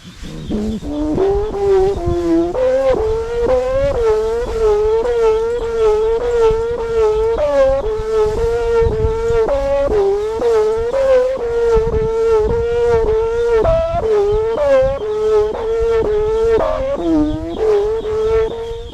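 A 100 cm kite bow with a purple blade hums loudly and continuously in the wind, a buzzing tone that wavers and pulses as gusts rise and fall, heard alone with no talk.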